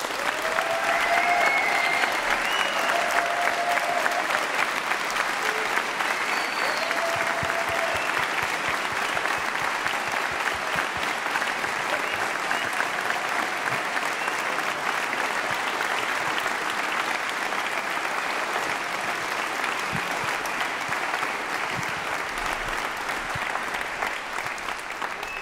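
Sustained applause from a concert audience for the conductors at the closing concert of a youth music camp, a dense steady wash of many hands clapping for the whole stretch, fairly loud and continuous with no talk.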